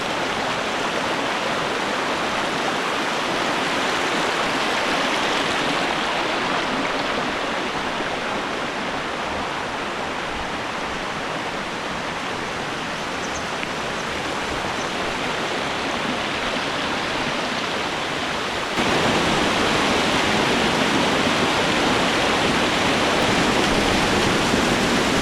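Seetharkundu waterfall in Nelliyampathy, Palakkad, Kerala, swollen with monsoon rain, pours in a loud, unbroken roar of rushing water that holds steady throughout and grows slightly heavier toward the end, with no voices.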